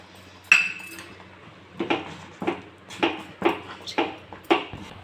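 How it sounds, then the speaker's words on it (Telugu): Metal spoon stirring cardamom powder into a sugar mixture in a pot, with a sharp initial clink followed by a steady series of scraping, clinking strokes about every half second, close and clear. "చూడండి ఇలా మొత్తం చక్కెర అంతా కలిసేట్టు కలుపుకోవాలి"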